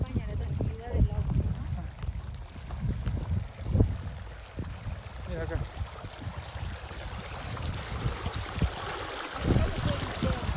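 Stream water flows and trickles steadily near Yanque in the Colca valley, a soft continuous wash under someone talking close by, with occasional footsteps and bumps.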